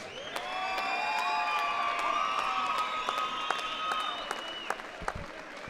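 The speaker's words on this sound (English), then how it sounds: "let's give a round of applause for these two fighters" A boxing-event crowd applauds two fighters after a technical-knockout bout, with sustained dense clapping, whoops and shrill whistles rising over it before the applause thins out near the end.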